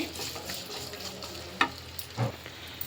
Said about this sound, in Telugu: ఇప్పుడు మనం ఇవన్నట్లని కొంచెం ఫ్రై చేసుకుందాము